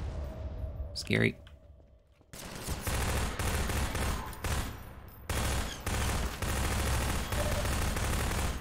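Enemy gunfire in the Half-Life 2 video game, dense bursts and rapid volleys that come in waves over several seconds. A voice speaks briefly over the shots.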